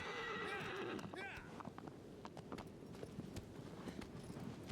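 A horse in the video game Shadow of the Colossus gives a short whinny at the start. Rhythmic hoof clip-clop follows over ambient game sound, with faint background talk.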